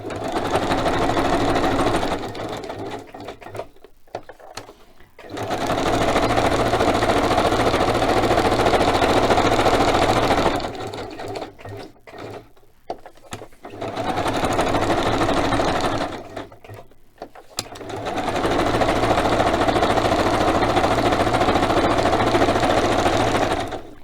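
A sewing machine stitches around folded, hemmed fabric in three long, loud runs of steady mechanical whirring, broken by short pauses where the fabric is repositioned, close and with no talking.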